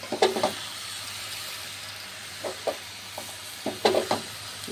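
Malabar spinach and its seed clusters cook in a pan with a soft, low sizzle, punctuated by a few sharp clinks and scrapes of a stirring utensil.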